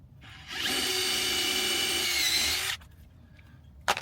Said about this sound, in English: Alright, we made a pilot hole. Now let's go in.